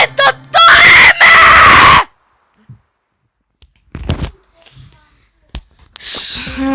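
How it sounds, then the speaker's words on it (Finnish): A player of the mobile game Brawl Stars lets out a loud, shrill scream close up that lasts about two seconds, followed by quieter scattered vocal noises and a brief outburst at the end. "Vähän vahingossa huusin."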